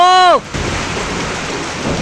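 Heavy rain pours down in a steady, broad roar that fills the whole stretch, after a brief tonal voice-like sound at the very start.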